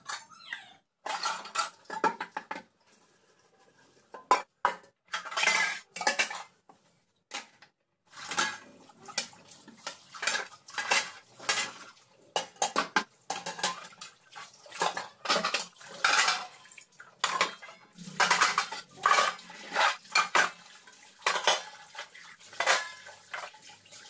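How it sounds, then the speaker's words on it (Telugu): Dishes, pots and pans are washed at a home sink after evening use, with clattering steel vessels and cutlery clinking in irregular bursts and brief pauses, close and fairly loud throughout. "నిన్న ఈవినింగ్ కడుక్కొని గిన్నెలు ఉంటాయి కదా, అవన్నీ అయితే వాష్ చేసుకుంటున్నాను ఇక్కడైతే"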